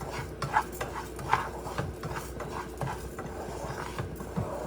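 Rice toasting in a pan for arroz con pollo, stirred with a steady stream of soft scraping and light clinks over a faint sizzle, close and continuous.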